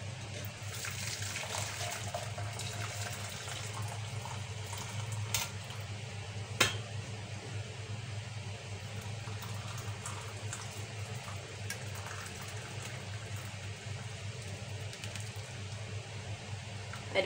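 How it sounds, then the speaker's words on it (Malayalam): A herbal immunity drink poured through a strainer gives a continuous watery splash and trickle with a faint clink of a utensil partway through, steady and fairly close, with no voices. "അരിപ്പ വെച്ചിട്ട് ഞാൻ അതാ ഇതേപോലെ അരിച്ചെടുത്തിട്ടുണ്ട്."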